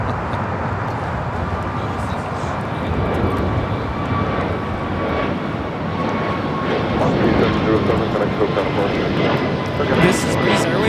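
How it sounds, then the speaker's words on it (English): A Breeze Airways Airbus A220-300 jet takes off from Los Angeles airport with a steady, broad engine roar that builds slightly toward the end, with faint voices in the background. "This is Breeze Airways 707 taking off to Jacksonville on the A220-300"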